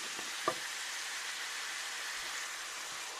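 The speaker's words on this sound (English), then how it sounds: "So now give it a stir." Garlic butter shrimp sauce with parsley simmers in a pan with a steady hiss, broken by a soft scrape or two as a spoon stirs it.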